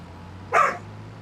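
One short, sharp dog bark rings out fairly close in a farming simulator game, then quiet returns over a low steady hum.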